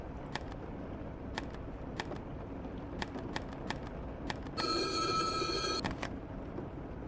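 Telephone ringing in the Filipino horror video game ISO/2004 while a character tries to call their father, a steady electronic ring tone lasting about a second over a dim, ticking background.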